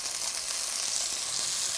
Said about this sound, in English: Onion is sauteed to a light buff color.